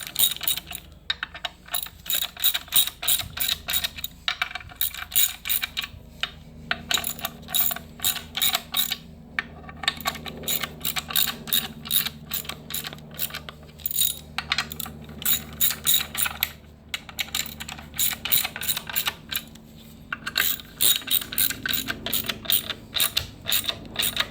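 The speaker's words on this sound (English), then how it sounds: "We're just going to tighten these evenly." Ratchet wrench clicking as bolts are tightened evenly on a Kia Soul engine during an engine swap, rapid close-up pawl clicks in repeated bursts with short pauses, no talking.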